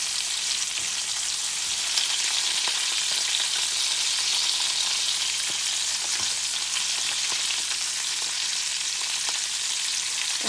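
Pork chops frying in a pan while being turned over, a loud, dense, continuous sizzle and crackle with scattered pops and a few soft scraping touches, no voices.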